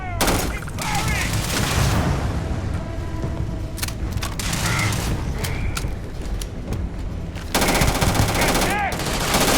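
Sustained automatic gunfire and booming shots in the sci-fi video game Starfield, loud continuous rattling bursts with sharp cracks throughout, overlapped by shouting voices.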